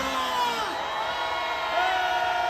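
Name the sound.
protest crowd cheering and shouting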